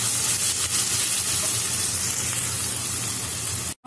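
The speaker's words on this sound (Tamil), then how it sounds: "வெங்காயம் ஒரு பாதி ஃப்ரை ஆயிடுச்சு. இன்னும் நல்லா வதங்கட்டும்." Onions sautéing in oil for a Kerala-style chicken roast, giving a steady, dense sizzle that stays loud and even close up, then cuts out briefly near the end.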